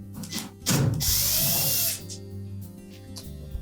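A power drill backs out screws from a Frigidaire washer's control console, buzzing loudly for about a second, with quieter ratcheting and handling sounds around it and no talk.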